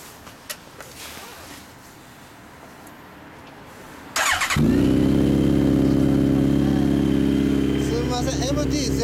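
After a few quiet knocks and a short whirring start, a Honda CB motorcycle engine fires up and idles loudly and steadily close by.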